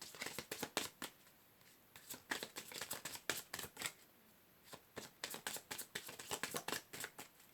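Tarot cards are shuffled in quick crisp riffles and flicks, repeating in bursts with short pauses between, close and fairly quiet.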